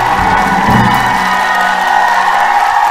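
A crowd cheers and claps in a loud, dense, unbroken roar, like a celebratory fanfare effect, holding steady for about three seconds with no clear voices standing out.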